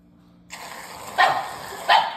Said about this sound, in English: the dogs are gonna go crazy